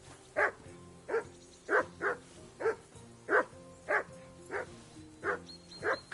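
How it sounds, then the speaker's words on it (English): A dog in Kingdom Come: Deliverance barks repeatedly, about a dozen evenly spaced sharp woofs at close range over a low ambient hum, with no talking. "Henry, call that dog to heel."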